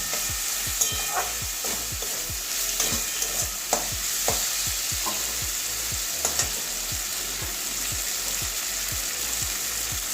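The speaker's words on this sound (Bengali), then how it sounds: "এবারে ভালো করে কষিয়ে নেব একটু 2 মিনিট" Boiled carrot stir-fried in a pan for pasta, with a steady sizzle and repeated scraping strokes of a spatula in a regular rhythm, close and continuous with no talking.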